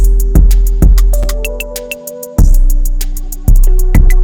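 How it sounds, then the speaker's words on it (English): A drum beat with reverb on the kick, snare and hi-hat plays alone. Rapid hi-hat ticks ride over booming, long-decaying low hits, with occasional tonal blips. "On the kick, what is that? Oh, reverb. On the snare, reverb. On the hi-hat, reverb."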